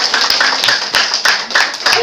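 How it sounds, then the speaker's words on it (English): A short burst of clapping from a small school debate audience, steady and fairly close, with a few louder accents standing out. "Round of applause, please."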